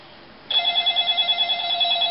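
Toy smart phone ringing with a steady electronic trill, a bright warbling tone starting abruptly and continuing unbroken, close and clear with no talk over it.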